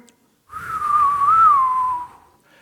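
A single person whistles a short, wavering melody in a church, clear and close, for about a second and a half before it fades.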